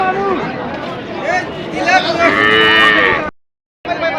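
Cattle moo loudly and repeatedly amid a crowd's chatter and bustle at the Patharia cattle market in Sunamganj, Bangladesh, with a brief cut to silence near the end.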